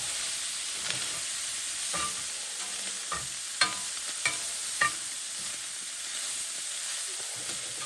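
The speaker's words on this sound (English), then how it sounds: "Reheat our meat, saute our mushrooms a little" Mushrooms and meat sauté in a pan while camping on Christmas Eve, a soft steady sizzle with a few scattered utensil taps and scrapes as the food is stirred, no talking.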